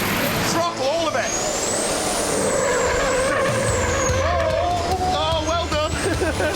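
A 1050 hp turbocharged racing tow truck at full throttle, engine roaring and rising through gears with turbo whine and shifting pitch, loud and close, with voices talking over it.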